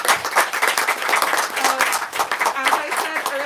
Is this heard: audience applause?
yes